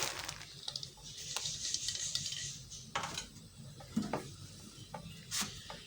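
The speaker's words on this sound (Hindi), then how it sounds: "अब मैं इसके अंदर फूल मखाने लूँगी, इनको मैं फ्राई कर लूँगी।" Fox nuts (makhana) fry in desi ghee in a pan over low heat. A soft, faint sizzle runs under intermittent scraping and clinking as a spoon stirs, and no one speaks.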